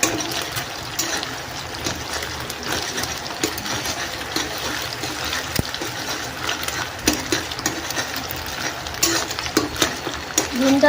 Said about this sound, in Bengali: চলো ডিমটা ভেজে নিই।